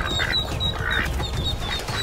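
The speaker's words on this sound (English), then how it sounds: "The mother duck is fighting for her family." A mother duck defends her ducklings in a territorial fight, with loud, close quacks and honking calls over a constant noisy background.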